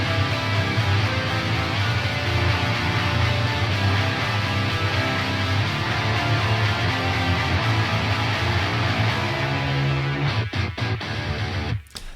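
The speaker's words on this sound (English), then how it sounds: "the lead guitars do come in, which sound like this" Lead electric guitars playing octaves sit atop a dense, continuous rock mix, loud and full throughout before thinning and breaking up near the end; no voices.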